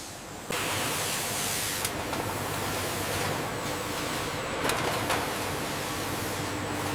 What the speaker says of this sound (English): Initiating spray cycle on lane 2.